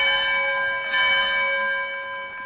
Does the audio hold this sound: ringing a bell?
yes